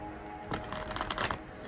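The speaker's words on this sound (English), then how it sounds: "I'm going to give it a good shuffle." A deck of cards is riffled in one quick, crisp burst of rapid fluttering clicks, close up, after a brief quiet moment.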